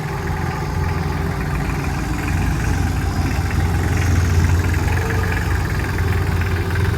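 A Solis 26 mini tractor engine runs steadily in reverse, a loud, continuous low rumble with a knocking diesel-like idle that grows slightly louder midway, with no voices.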